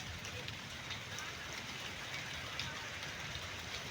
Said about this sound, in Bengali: আবার বৃষ্টি এসে গেল জোরে।